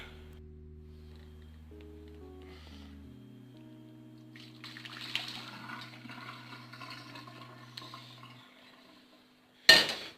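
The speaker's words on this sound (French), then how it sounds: "Et on va vider l'eau chaude dans un évier." Hot water from melting chocolate poured out into a sink, a few seconds of soft splashing and gurgling after quiet tones, ending with a sharp clatter.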